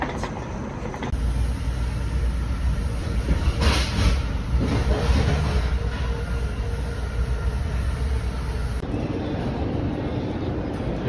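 A train rumbles steadily past at close range, its wheels rattling continuously under a faint high whine, with no break in the noise.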